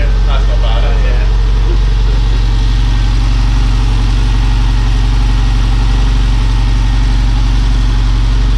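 Classic fuel-injected car engine idling steadily at a garage, a loud, smooth low rumble that carries on unbroken, with brief faint talk early on.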